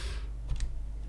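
A few light computer keyboard keystrokes click close by in a quiet room, a short cluster of soft taps over a faint background hum.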